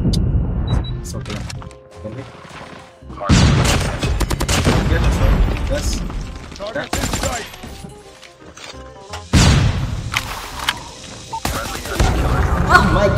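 Shotgun fire in the Call of Duty video game, loud bursts of blasts and impacts separated by short pauses, with excited players talking over the action.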